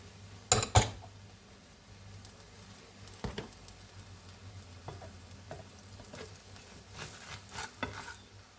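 Teff and flaxseed flatbread cooking in a pan, a low continuous sizzle near at hand, broken by a couple of sharp scrapes and light utensil taps.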